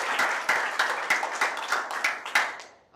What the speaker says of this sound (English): Get the applause going.